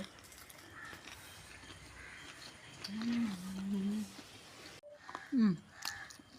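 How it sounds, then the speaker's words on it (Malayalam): A crow caws a few times outdoors, harsh calls rising over a soft background hum, with a short gap of quiet before the last call. "കാക്കയാ"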